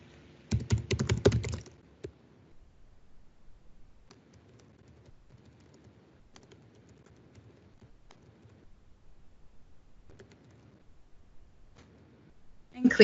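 Computer keyboard being typed on to enter a comment, a short dense burst of keystrokes near the start, then only quiet background murmur with a faint click near the end.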